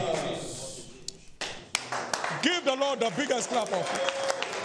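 A church congregation cheers and claps during a sermon, loud voices and whoops rising over a burst of applause after a brief quieter opening.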